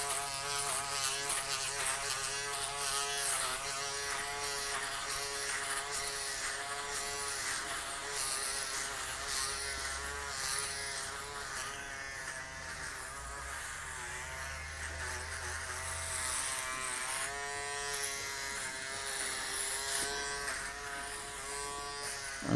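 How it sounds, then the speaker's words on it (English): An old electric shaver shaves a head, humming as a continuous, close, steady buzz with a strong tonal whine that wavers slightly as it moves, with no talk. "The shaver is very old."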